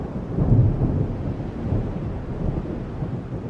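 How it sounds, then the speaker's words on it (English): Rolling thunder rumbles low and continuous during a storm on Isle Royale, a deep swelling growl with a steady wash of rain and wind beneath it. "Rolling thunder wakes me with flashes of light like so many strobes"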